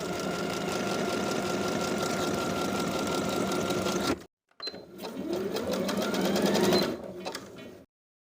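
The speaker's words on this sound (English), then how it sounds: "Sew each buttonhole in place, then sew the buttons across on the other side." A sewing machine stitches buttonholes and buttons on a garment, running in a fast, steady mechanical whir, stopping briefly, then starting again and slowing before going quiet.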